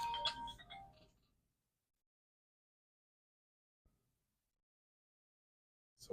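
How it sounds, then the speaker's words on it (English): A mobile phone rings from an incoming call, giving one short burst of ringtone before it cuts off, followed by near silence with a tiny tick and a faint return at the end. "Someone called my phone."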